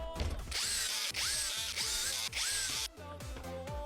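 A power tool drives two screws during a tool repair, several loud, close bursts of whirring motor whine that rise and stop in short repeated runs, alone without talk.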